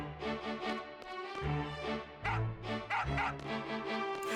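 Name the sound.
dog barking in video game Final Fantasy VIII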